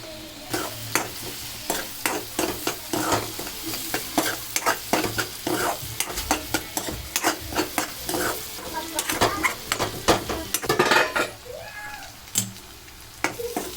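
Onions fry in a pan for an Andhra dried salted fish and tomato curry, sizzling steadily while a spoon stirs and scrapes against the pan in repeated close, clattering strokes.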